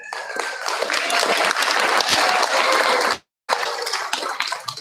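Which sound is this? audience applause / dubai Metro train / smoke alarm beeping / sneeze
audience applause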